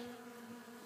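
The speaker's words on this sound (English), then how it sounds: "these are some of their bees coming to get nourishment. Eating my corn." Bees buzz faintly around corn plants in a field, a steady continuous drone with no other sounds.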